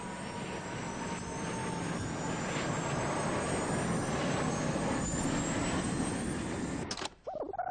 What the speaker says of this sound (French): on entend distinctement les 2 réacteurs de l'A320 remonter en puissance